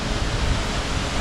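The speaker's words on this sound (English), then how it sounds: "this is a much bigger waterfall" Rainbow Falls near Hilo, Hawaii, a large waterfall giving a steady, dense roar of falling water, heard alone for a brief moment.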